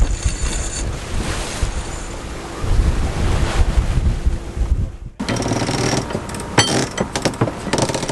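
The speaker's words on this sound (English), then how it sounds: "We are just slowly sailing, tacking up the island. It's pretty slow going, light wind" Sailboat tacking slowly in light wind off Nuku Hiva, French Polynesia: steady wind rush and water wash against the hull, loud and continuous, with a brief dropout and then sharper splashes and creaks.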